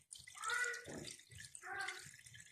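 Lemon juice is poured over an iron nail in a container, two brief liquid pours with splashing and dripping, fairly quiet and close.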